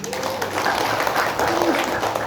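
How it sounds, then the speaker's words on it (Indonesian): A church congregation applauds during an Easter service, a dense steady wash of clapping from many hands filling the room, with faint voices mixed in underneath. "Tepuk tangan buat Tuhan Yesus."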